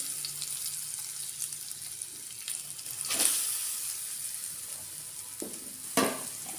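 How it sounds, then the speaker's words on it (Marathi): Freshly grated coconut sizzles in hot ghee in a pan, a steady soft frying hiss close by with a few sharper clinks and scrapes of stirring, and no talking over it. "इथे आपलं हे तूप तापलेलं आहे. त्याच्यामध्ये मी आता हा नारळाचा किस टाकून घेते"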